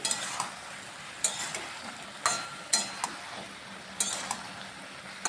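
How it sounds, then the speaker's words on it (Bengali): Chili powder frying with ridge gourd in a pan, a soft steady sizzle broken by sharp clinks and scrapes of a spatula stirring at irregular intervals, close and without talk. "এই যে লঙ্কা গুঁড়োটা একটু ভাজা ভাজা করে নিচ্ছি"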